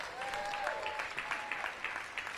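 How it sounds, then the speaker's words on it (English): Outdoor crowd applause at a school grand opening ceremony, a thin, quiet patter of scattered clapping with a few voices mixed in. "Give him a big round of applause."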